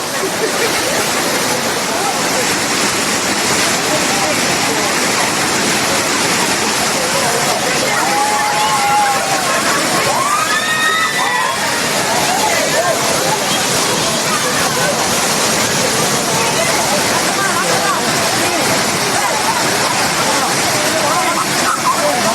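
Water gushes down Suruli waterfall in a dense, unbroken roar that fills the whole stretch, loud and close, with faint voices of bathing tourists mixed into the rush.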